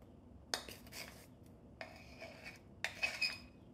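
Dhokla batter of rice and lentils being stirred after baking powder or Eno goes in, heard as a few short scraping and clinking bursts of a spoon against a bowl, separated by brief pauses, close and fairly quiet.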